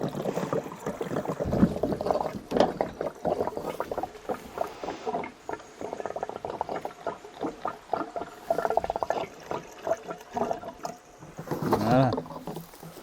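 Fuel is siphoned from an old abandoned vehicle, producing close, irregular gurgling and sloshing liquid sounds with soft knocks, fairly quiet and uneven in rhythm.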